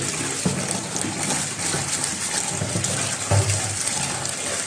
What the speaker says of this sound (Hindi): आलू, पालक और प्याज, ये तीन चीज़ें हम एक जगह ही धो लेंगे